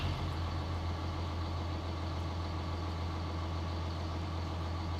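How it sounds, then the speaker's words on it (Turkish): A hay tedder runs in the video game Farming Simulator 2019 with a steady, dense mechanical engine drone and a strong low hum, constant and unbroken throughout, close and alone with no talk. "Şimdi makinemizi açıyoruz. Ot kurutma makinesini."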